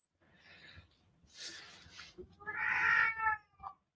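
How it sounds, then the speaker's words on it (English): A small deaf cat meows loudly and close by, one drawn-out cry followed by a short chirp, after softer vocal sounds and scattered rustling. "Meow."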